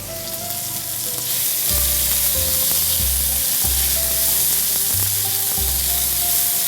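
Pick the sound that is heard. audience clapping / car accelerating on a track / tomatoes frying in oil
tomatoes frying in oil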